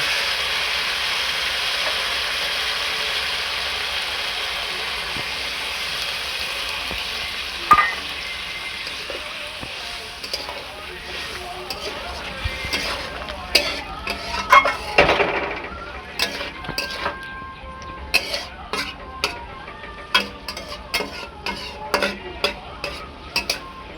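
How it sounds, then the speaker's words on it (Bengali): Poppy seed paste frying with onion in a pan, a steady hot sizzle that gives way to repeated sharp scrapes and clinks of a spatula stirring, growing busier toward the end, with no talking. "এরপর আমরা দিয়ে দিলাম পোস্ত বাটা"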